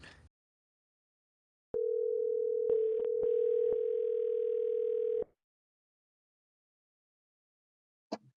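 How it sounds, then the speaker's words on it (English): A telephone dial tone during an outgoing sales call: a steady, loud, pure tone holds for about three and a half seconds, broken by a few brief clicks, then cuts to silence before a short click at the end. "I'll just keep dialing until otherwise."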